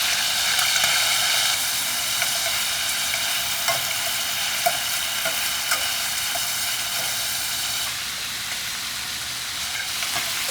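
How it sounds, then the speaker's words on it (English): Meat seasoned with salt and black pepper searing in a hot pan, a continuous loud crackling sizzle with scattered pops, close and steady, without speech. "sear the meat for a while"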